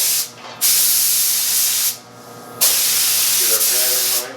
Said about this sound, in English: We're going to spray a quick first coat on here.